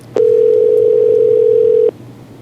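A steady telephone dial tone heard when calling a voicemail number, one clear continuous tone lasting under two seconds over faint background hiss.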